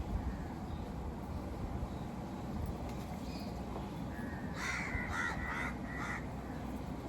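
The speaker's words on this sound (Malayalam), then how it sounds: "കാക്കയുടെ സൗണ്ട് കേൾക്കണം" A crow caws several times in a short burst toward the end, moderately close, over a low steady background rumble.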